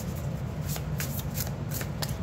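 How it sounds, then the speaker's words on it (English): A tarot card deck being rifle shuffled by hand, a rapid fluttering riffle with sharp snapping bursts as the cards interleave and bridge, close and crisp against a faint hum. "I will rifle shuffle it now"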